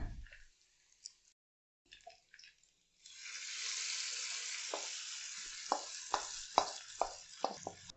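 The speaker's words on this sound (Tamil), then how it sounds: "நம்ம இப்போ குழம்போட இந்த தாளிப்பை சேர்த்துக்க வேண்டியதான்." Hot tempering (tadka) is poured into mutton gravy, starting with a few faint clinks and taps, then a sudden loud sizzle that keeps hissing while sharp crackles and pops burst through.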